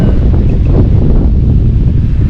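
Steady wind buffets the microphone at Munnar Top Station, a hill viewpoint, as a continuous low roar and rumble that holds even and loud throughout with no voices.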